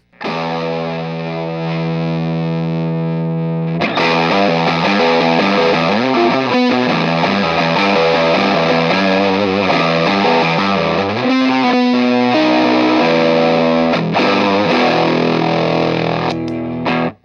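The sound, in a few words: fuzzy distortion pedal on electric guitar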